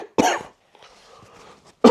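Two sharp, harsh coughs from a nearby adult, separated by a stretch of quiet murmuring or breathy throat noise.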